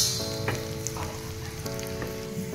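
Loud crackling sizzle of spices with dried red chillies tempering in hot ghee, with sharp pops scattered through the steady hiss.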